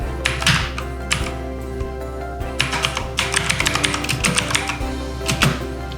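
Someone types a message on a computer keyboard with quick bursts of close, crisp key clicks and thunks, pausing between runs, with no talking.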